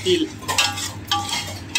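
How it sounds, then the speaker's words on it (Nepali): Sesame seeds roasting in ghee are stirred in a pan, with a soft sizzle under repeated scraping strokes of a spoon against metal, close and fairly loud, about three strokes in under two seconds. "तिल घिउमा भुटिँदै छ, यहाँ देख्न सक्नुहुन्छ।"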